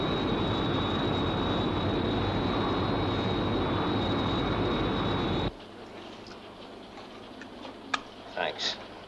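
The Sky One interceptor from the UFO TV series roars with a loud, steady jet rush and a high whine for several seconds, then cuts abruptly to a quiet interior where faint clicks and brief sounds follow.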